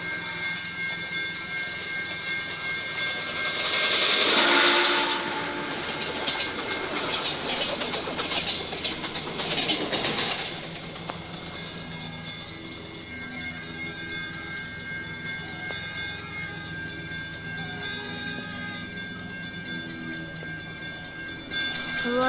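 A train passing, a loud rumbling roar that swells early and then settles into steady rolling wheel and engine noise that fades gradually.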